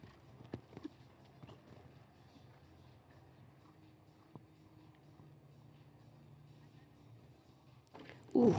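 Horse hooves clip-clopping across a show jumping arena during a grand prix round, a soft scattered rhythm of footfalls under low crowd and arena murmur, with a louder burst near the end.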